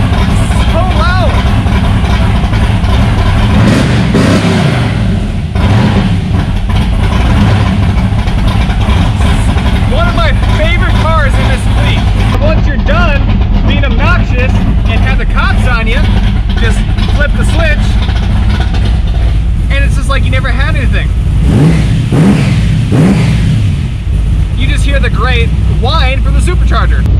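A 1,000 horsepower Pontiac Trans Am engine roars loudly and continuously at close range, rumbling steadily around 2,500 RPM with occasional swells, while someone talks over it throughout.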